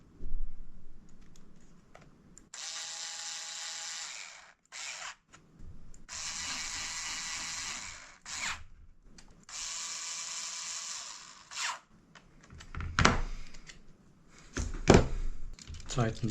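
A small 2 mm hex key tightens grub-screw pins on ZTTO JT07 bicycle pedals, giving bursts of ratcheting, clicking mechanical turning close up, separated by pauses and a few sharper knocks.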